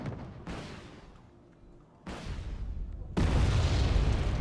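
Bomb detonations in the Wargame Red Dragon video game: a boom sounds near the start, then heavier blasts land at about two and three seconds, leaving a loud, sustained rumble at the end.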